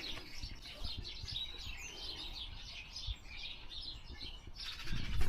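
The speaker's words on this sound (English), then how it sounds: "And you can hear the bird song." Birds sing and chirp continuously from within a roadside hedge of holly and berries, a steady chorus of thin, high twitters at moderate distance over outdoor background noise, swelling slightly louder toward the end.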